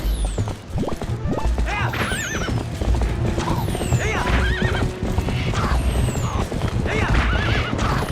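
Epona the horse in The Legend of Zelda: Twilight Princess HD, galloping with rapid clip-clop hoofbeats and repeated loud whinnies, close and continuous amid crashing game effects.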